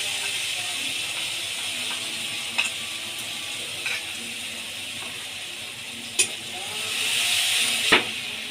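Masala paste sizzles in a frying pan with fried tomatoes, a steady soft hiss with a few sharp clicks of stirring spoon against the pan, fairly quiet and unaccompanied by talk.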